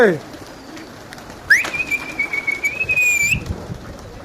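Pigeons take off with a sudden clatter of wings partway through, followed by a long thin whistling note and soft cooing under a faint background hum.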